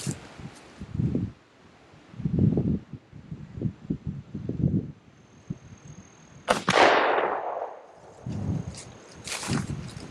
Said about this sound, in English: that's the first shot with the can on it, or the suppressor on